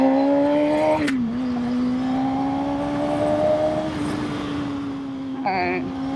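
A motorcycle with freshly tuned valves pulls away hard. Its engine note steps down briefly at a shift, then climbs steadily and loudly under a continuous rush of wind.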